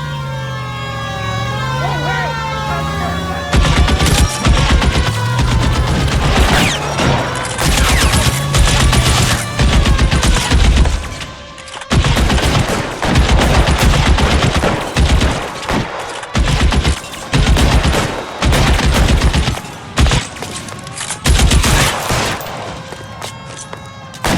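Gunfire in the L.A. Noire video game: a sustained, loud fusillade of rapid shots and bursts over several seconds, with voices shouting between volleys and a siren-like tone at the start.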